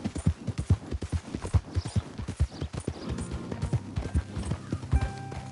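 Rhythmic clip-clop of horse hooves at a steady trot in Red Dead Redemption 2, close and clear, with a faint tonal background layer joining toward the end.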